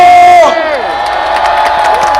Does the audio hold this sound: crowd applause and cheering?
yes